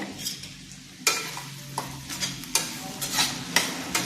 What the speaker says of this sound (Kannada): ಈಗ ಕ್ಯಾಪ್ಸಿಕಮ್ಮು ಮಗ್ಗಿದೆ.